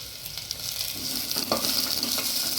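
Curry leaves, green chilli and coriander with stems hit hot oil for mutton rasa, making a steady close sizzle that builds and crackles, with a brief stir partway through.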